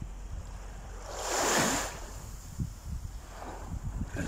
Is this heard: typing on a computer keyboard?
no